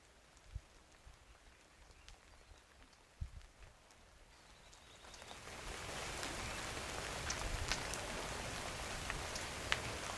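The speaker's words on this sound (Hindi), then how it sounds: "बारिश की बूंदें ज़मीन पर" Rain patters softly with a few scattered knocks, then swells after a few seconds into a steady, dense hiss of drops striking the ground.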